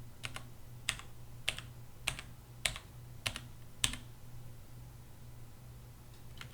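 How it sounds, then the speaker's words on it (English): Single keystrokes tapped at an even, unhurried pace, about one every half second, quiet and close over a faint background hum. "if I start typing in biology at just a regular typing speed"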